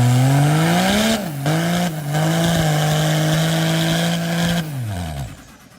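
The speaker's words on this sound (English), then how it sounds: "he is known for his insane burnouts and drifts and for doing it in a full-size diesel truck" A full-size diesel truck with a 6.7 Cummins doing a burnout, a loud sustained engine roar with rising and falling revs and tire squeal, close by, tapering off at the end.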